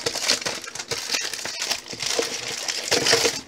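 Pokémon Sun and Moon booster packs shuffled by hand, producing close, continuous crinkling and rustling of foil wrappers with no speech.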